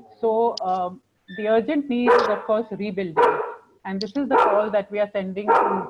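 A pet dog barks and yips in the background of a home setting, the sharp calls mixed under a man's continuous, close speech.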